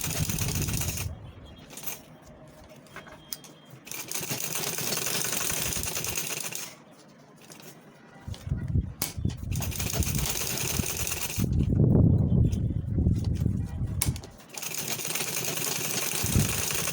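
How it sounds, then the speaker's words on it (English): A sewing machine stitches an ankara fabric purse in bursts, its motor whirring and clattering close by, pausing between runs and picking up again at steady loudness. "This is where I'm sewing."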